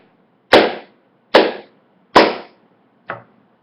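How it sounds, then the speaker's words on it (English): Hand claps: four sharp, crisp slaps spaced at an even, unhurried pace, each ringing briefly into a quiet room, the last one softer than the rest. "The sound of one hand clapping is the normal clap in the physical world."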